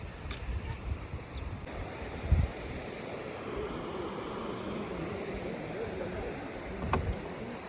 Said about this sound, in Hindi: ये पानी बहता हुआ आ रहा है पहाड़ों से पहाड़ों पर बहता हुआ पानी